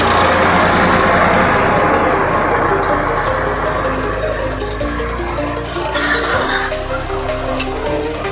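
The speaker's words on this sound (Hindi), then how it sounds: "देखिए दोस्तों, ये हमारे खेत के बगल से ये जुताई कर रहा है, और ट्रैक्टर ये इसी का है।" A farm tractor engine runs loud and close while ploughing the field next door, a continuous heavy low rumble with shifting load and no pause across the whole stretch.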